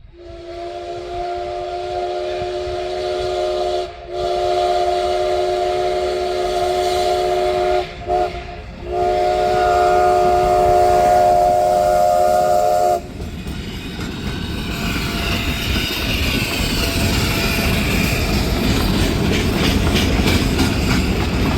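A Cumbres & Toltec working steam train sounds long, loud whistle blasts with brief breaks, then rolls past with a heavy rumble and rhythmic clatter of its cars.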